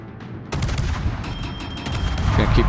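Warship gunfire in World of Warships, an armour-piercing salvo erupting in a sudden loud blast followed by rapid rumbling booms and crackling reports that build in low-end weight.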